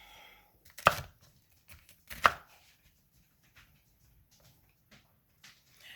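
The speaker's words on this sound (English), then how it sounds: "And then I'm going to cut up our pepper." Bell pepper is cut into small cubes on a board, with two sharp, loud knife chops standing out, then several faint, sparse taps in a quiet room.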